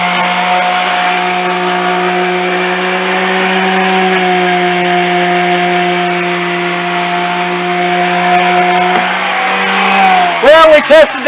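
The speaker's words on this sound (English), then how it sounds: "I read and seen it work that you can even use the sander as a vibrator." Electric sander pressed against wooden wall forms to vibrate freshly poured concrete for a doghouse, a loud steady droning buzz with a humming tone that holds for several seconds, then stops with a few knocks and rattles at the end.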